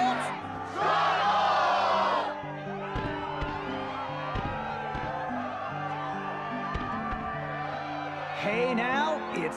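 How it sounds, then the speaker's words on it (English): Arena crowd cheering in Kingdom Hearts 2, roaring loudly at the start and end with shouts and whoops, under the player's talk and game music. "Yes, the crowd is fired up, so you know what comes next."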